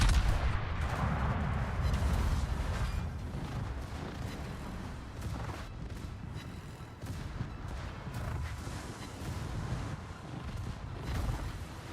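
Naval gunfire from warships in World of Warships, a dense, continuous rumble of booming salvos and low explosions, loud and steady throughout with no talk.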